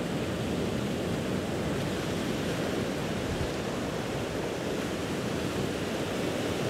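Ocean waves washing onto a crescent beach at incoming tide, a steady broad wash of surf noise with no distinct breaks, continuous and even, with no other sounds.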